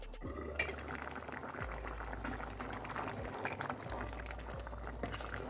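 Vegetable dal bubbling steadily in a pot on the stove, a continuous close-up simmer with soft popping, low rumble and an occasional faint clink, no voices.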